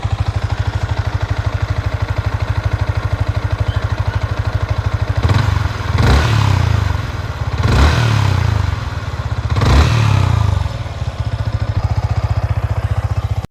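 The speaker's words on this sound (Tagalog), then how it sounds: "Here is a stock exhaust system from an MT-15." Yamaha MT-15 motorcycle with its stock exhaust idling close by, a steady low thrumming putter broken by three sharp throttle blips that rise and fall over about five seconds.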